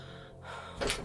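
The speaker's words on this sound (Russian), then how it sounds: "Я только свое дыхание слышу." A sharp gasping breath from a character in the horror game At Dead Of Night, one quick audible intake near the end, close and alone over a quiet low ambient hum.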